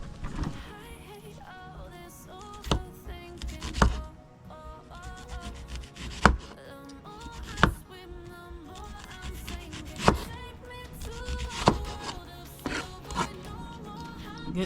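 A knife chops an onion into fine rings on a board, its sharp, irregularly spaced knocks standing out over background music.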